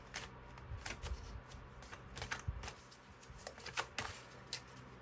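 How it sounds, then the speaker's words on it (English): Cards are riffled and shuffled by hand for a tarot-style reading, a quiet, steady run of rapid flicking and snapping bursts with no talking. "Still shuffling."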